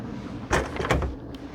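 Metal doors on a Pit Boss Brunswick vertical pellet smoker swinging shut over low background noise, with two close thuds in quick succession and a faint click afterward.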